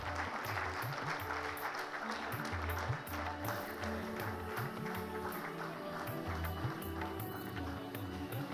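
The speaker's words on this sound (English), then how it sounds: "Huge round of applause." An audience at an India CSR leadership summit in Bengaluru applauds, a dense, steady round of clapping that carries on evenly for over eight seconds with no break.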